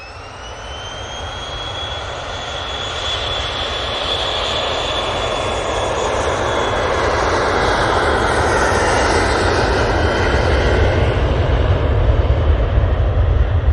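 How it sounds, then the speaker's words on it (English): Jet airliner departing Manchester Airport for Farnborough, a loud, steady broadband engine roar that builds over the span with a rising whine, no talk. "So this is another one going off to Farnborough."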